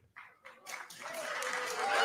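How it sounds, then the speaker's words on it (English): A political event crowd reacting with mixed cheering and booing, a swelling wash of voices and scattered claps that builds steadily louder over a couple of seconds. "in the crowd we have some people cheering and some people are booing that"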